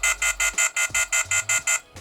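Diagnostic scan tool sounds a reminder to unplug its cable, about ten rapid, evenly spaced electronic beeps in a loud, close burst lasting two seconds.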